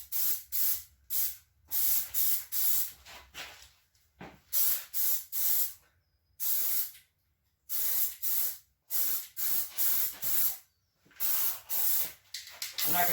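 Plasti Dip hisses from a shaken aerosol can in a steady run of short bursts, each roughly half a second to a second long and separated by brief pauses, close and fairly loud with no voices.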